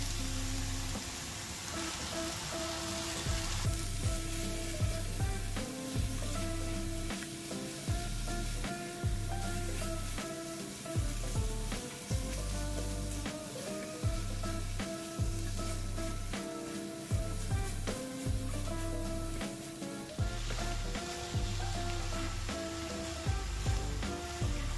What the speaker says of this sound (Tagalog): Ayan po, nag-translucent na ang sibuyas. Ilagay ang baka.